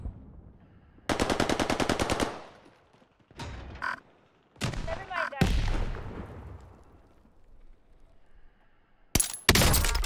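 Gunfire in the video game Warzone: a rapid automatic burst, then several separate loud shots with ringing tails, ending in another sharp burst, close and punchy.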